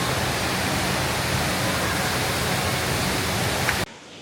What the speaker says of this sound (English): this is the famous Jewel waterfall here at Changi Airport